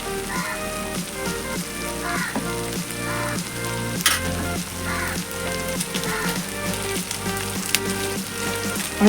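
Ghee sizzles and fries steadily in a pan with mung dal and ash gourd, a close, continuous crackle with occasional louder pops and stirring.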